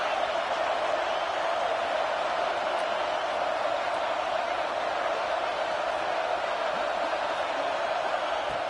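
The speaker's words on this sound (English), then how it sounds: "And here comes the noise. This crowd is trying to inspire this defense to make a big red zone stop." A football stadium crowd roars as the home defense tries to make a red zone stop, a dense, steady wall of cheering and noise that holds without letup throughout.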